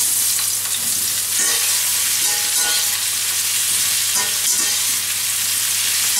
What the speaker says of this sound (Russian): Сейчас я грибы с луком обжариваю.